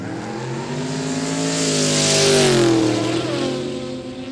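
A panel van's engine revs loudly at a Quick Street drag racing day in Kooralbyn Valley, Queensland. The growl climbs and swells to a peak, then eases back slightly, close and steady for several seconds with no talking.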